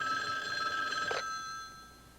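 A telephone bell rings in a steady sustained burst through the first second or so, then cuts off abruptly, leaving a quiet room tone with no talk.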